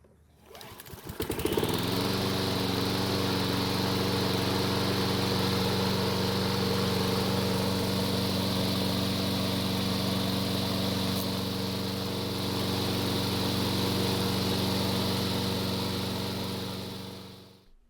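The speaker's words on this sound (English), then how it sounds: "I'll then replace the air filter and then start the engine" A gasoline lawn mower engine starts after a short pull and settles into a loud, steady running drone that holds unchanged for over fifteen seconds before cutting off.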